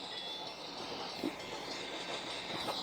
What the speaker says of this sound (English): Look at the clickety clack sound effect.